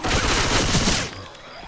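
Loud, continuous gunfire from Left 4 Dead 2 on Xbox 360 hammers away for about a second before cutting off abruptly, leaving a quieter tail.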